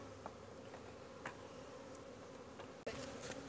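Honey bees buzz around an open hive during a honey harvest, a steady droning hum close by, with scattered louder passes and a brief knock or rustle partway through.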